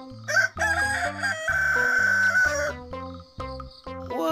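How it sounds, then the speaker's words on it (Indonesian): Rooster crowing in a children's toy-animal truck setting, set against bright musical tones that run throughout the loud 4-second stretch, with no voices. "ini ayam jago"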